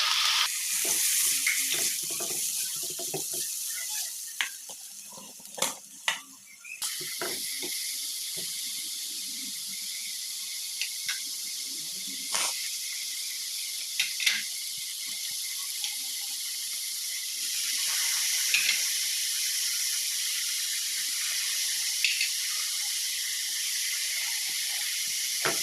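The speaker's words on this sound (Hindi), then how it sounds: "अब हमने अपनी सारी चीज़ों को इसमें फ्राई कर लेना है।" Ingredients fry in vegetable oil in a saucepan over high heat for chicken kachori, a steady close sizzle and hiss with occasional stirring clatters and no talking.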